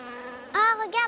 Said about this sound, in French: On entend les abeilles qui bourdonnent et qui font leur miel.